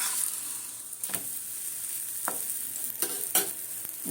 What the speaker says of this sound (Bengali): এইভাবে খুন্তি দিয়ে একটু চাপ দিচ্ছি, ওখানে তেল ঢুকবে তাই জন্য